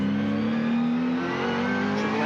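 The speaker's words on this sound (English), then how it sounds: "See the tremendous acceleration as he comes out of that corner, up to 180 kilometres an hour" Race car in a touring-car heat accelerating hard out of a corner up to about 180 km/h, a loud, steady engine roar rising slightly in pitch throughout, heard alone.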